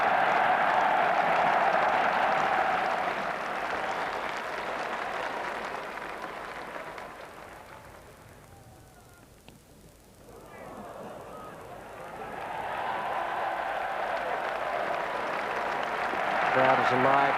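A crowd at a NatWest cup final cricket match between Sussex and Warwickshire gives sustained applause that swells, dips to near quiet midway and then builds again, broad and distant, with a commentator's voice talking over it.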